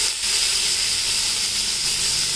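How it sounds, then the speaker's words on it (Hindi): Onions browning lightly in a couple of spoonfuls of mustard oil for chicken pulao give off a steady, close, even sizzling hiss that runs unbroken throughout, with no talking. "प्याज डाल के हम इसको लाइट ब्राउन करेंगे।"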